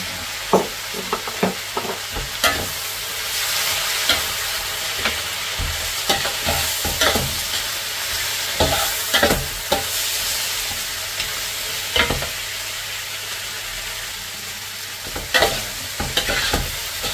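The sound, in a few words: stirring frying dish with fish sauce (patis)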